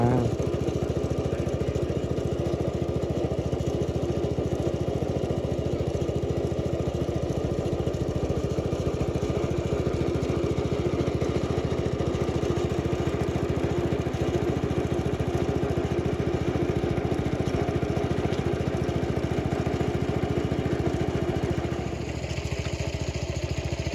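Steady, loud drone of a small engine-driven water pump draining a muddy fish pond outdoors, running continuously at an even pitch throughout, with a slight change near the end.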